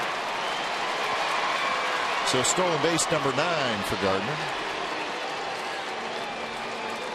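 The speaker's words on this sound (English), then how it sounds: "It's amazing that the A's fans are cheering a Yankee stealing a base." Oakland A's fans at a baseball game against the New York Yankees cheer and applaud a Yankee stolen base, a broad crowd roar sitting beneath someone commentator's voice.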